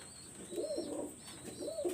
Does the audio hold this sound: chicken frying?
no